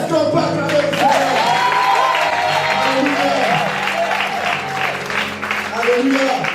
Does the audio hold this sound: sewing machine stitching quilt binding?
no